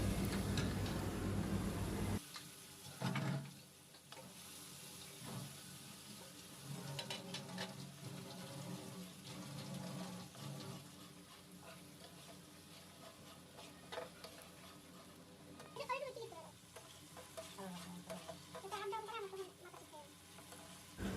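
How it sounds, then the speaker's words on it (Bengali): Ground spice paste with five-spice sizzling and frying in oil for a drumstick and pointed gourd steamed dish, a steady close crackle with intermittent stirring scrapes throughout. "এর মধ্যে দিয়ে দিচ্ছি যে মশলাটা বেটে রেখেছিলাম সে মশলাটা দিয়ে ভালো করে কষিয়ে নিব তেলের সাথে"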